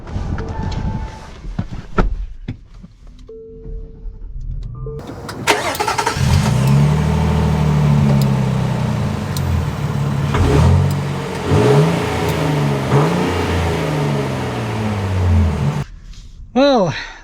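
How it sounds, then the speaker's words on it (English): A 2025 Nissan Armada Platinum SUV starts up and drives off, its engine rising from quiet idle into a steady accelerating rumble with shifting revs, heard from inside the cabin over several seconds. "let us set off in the new Armada"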